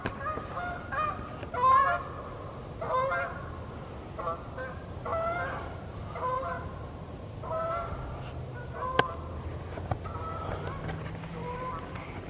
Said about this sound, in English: there's the geese flying, look.